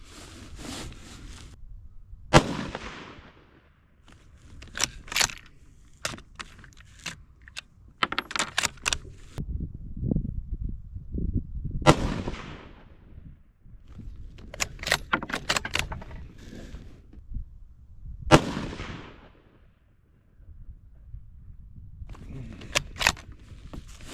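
A Ruger American Gen 2 rifle firing .223 ammunition: sharp, loud shots stand out from a quiet, rumbling background with faint clicks and handling noise in between.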